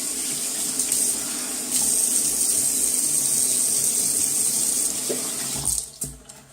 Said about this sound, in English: I just rinse off and then we'll do the pickups.